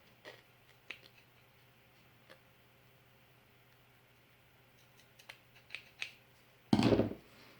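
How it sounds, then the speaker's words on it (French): Scissors cutting felt fabric at close range, scattered small snips and ticks across a quiet background, ending in a louder, longer crunchy cut. "à venir couper au ras de la feutrine"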